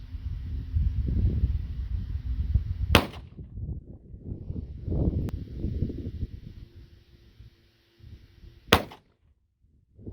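Two sharp, loud gunshots from a CL-89 gun at an outdoor range, several seconds apart, over rumbling wind noise on the microphone.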